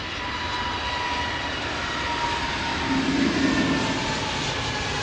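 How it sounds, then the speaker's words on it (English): A JetBlue Airbus A321 jet at London Heathrow Airport gives a steady, broad engine roar that holds level and swells slightly midway, heard at a distance with no voices. "Obviously we get the JetBlue in here at Heathrow, the 321"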